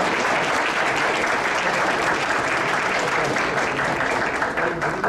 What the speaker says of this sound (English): Let's give a round of applause for Perfecto Alferos